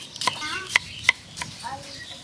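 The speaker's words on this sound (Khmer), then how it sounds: "នេះខ្ញុំហាន់ស្ដើងស្ដើងខ្ញុំអត់ច្រាំទេ" A knife slices garlic thinly on a board, giving four sharp, close cutting taps over a couple of seconds, with a faint voice in the background.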